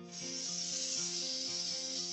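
A steam cleaner blasts high-temperature dry vapor inside a baked-on greasy oven, giving a steady, close, loud hiss with a faint low motor hum beneath it.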